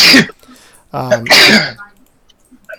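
A single sharp sneeze bursts out at the start during a tabletop role-playing game session, followed by brief speech and then quiet, close to the microphone.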